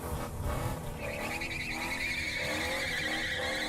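A car at a burnout event holds its engine on the rev limiter, a loud, sustained, buzzing engine note with tire squeal and skidding noise underneath.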